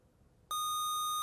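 Electronic answer buzzer at a televised high-school quiz competition: after a brief hush, a single loud, steady beep cuts in abruptly and holds without wavering.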